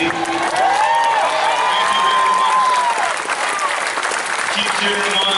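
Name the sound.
stadium crowd cheering and applauding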